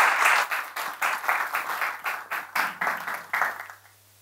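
Audience applause at a Turkish lecture event, a burst of clapping that rises into rhythmic, nearly synchronized claps before fading out, moderately loud and without speech.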